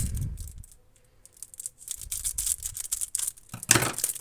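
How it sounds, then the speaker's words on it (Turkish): Close rustling and crinkling of a package from Japan with snipping scissor cuts, ending in a louder tearing burst as the package opens. "bunu makasla açalım hemen."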